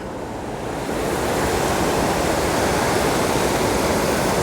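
River water rushes past in full spate at Llangollen, a loud, dense, unbroken roar of broadband noise that swells slightly after the first second and then holds steady, with no voices.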